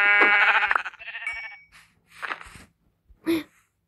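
Minecraft sheep bleat in a few short, separate calls with quiet gaps between them, the first one fuller and buzzier, all fairly close and clear without talk.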